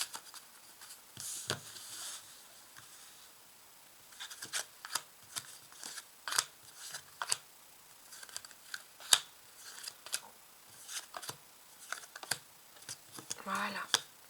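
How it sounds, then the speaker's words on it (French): Tarot cards being shuffled close by, with a scattered run of soft slaps, riffles and shuffling clicks at irregular intervals, some louder snaps near the end. "On va dans un premier temps remuer les cartes"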